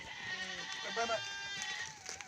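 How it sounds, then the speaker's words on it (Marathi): A goat bleating while it eats, one clear wavering bleat at close range, with a person talking over it. "ते बकरी खाताय"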